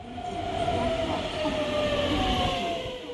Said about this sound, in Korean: 오랜만에 누리호 열차를 타보는데요.